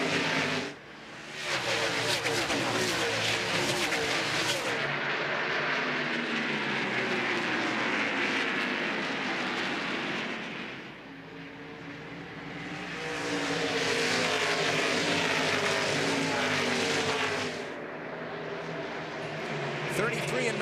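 A pack of NASCAR stock cars roars past at New Hampshire during a 2001 restart, engines swelling and fading in long sweeping passes beneath continuous race commentary.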